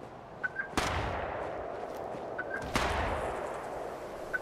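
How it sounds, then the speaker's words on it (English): Gunshots crack in Fallout 76 Wastelanders, two sharp loud reports about two seconds apart with fainter pops between, over a quiet game background. "Okay, you're shooting at something."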